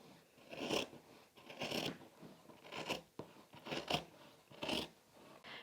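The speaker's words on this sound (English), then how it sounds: "The next step is to trim across the corners of the quilt to reduce the bulk at the corner" Scissors snip across quilt corners and along the seam allowance, a series of crisp, close cuts spaced about a second apart, fairly quiet with soft rustling of fabric between.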